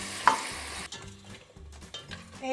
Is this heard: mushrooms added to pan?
yes